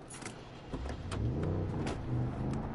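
Truck driving in the video game Far Cry 5, a continuous engine drone that rises and holds at moderate loudness, with a few sharp clicks and knocks over it.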